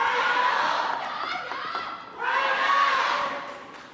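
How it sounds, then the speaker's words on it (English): Crowd of fans cheering noisily in a table tennis arena during a women's singles semifinal, a sustained roar of voices that dips briefly midway and then swells back up loud. "Kuai fans getting noisy in the Maverick"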